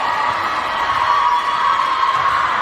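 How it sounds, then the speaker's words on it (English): Crowd at a Dawson Black versus LV Day School basketball game cheering and shouting steadily at high volume, a dense continuous roar of many voices with children's shouts mixed in, right after a timeout is called. "The crowd getting loud."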